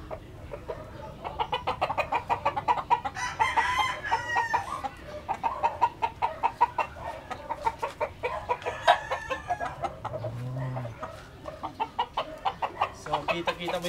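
A gamecock rooster crows and clucks in a steady string of short calls and sharp vocal bursts, close by, with someone talking over parts of it.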